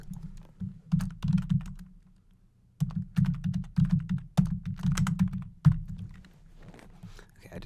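Bursts of typing on a computer keyboard while setting text in motion graphics software, close and clear, with dense clicking in several runs separated by short pauses.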